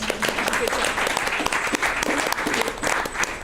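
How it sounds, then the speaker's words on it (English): An audience at a DECA event gives a round of applause, dense, continuous clapping at a strong, even level, with a faint voice or two mixed into the crowd noise. "let us give these folks a round of applause"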